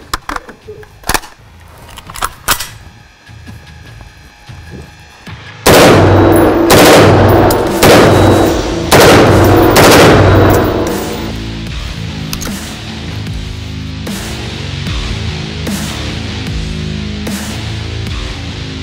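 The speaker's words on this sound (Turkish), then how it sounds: "Şimdi hem dipçik açıkken hem de kapalıyken tekli atışlar gerçekleştireceğiz." Kalekalip-made Turkish rifle fired at a range, first scattered single shots, then loud rapid bursts of automatic fire packed close together, each crack sharp and near.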